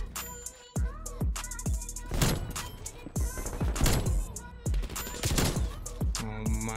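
Hand cannon and other gunfire in the video game Call of Duty Cold War, a rapid string of sharp, punchy shots and bursts with brief gaps, loud and close, mixed with game effects.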